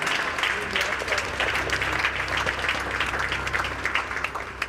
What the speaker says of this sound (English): Please, let's stand and give him a good round of applause.